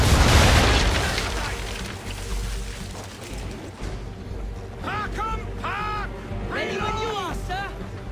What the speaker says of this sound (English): broadside, and when all guns are on target, call fire. Round shot for a start!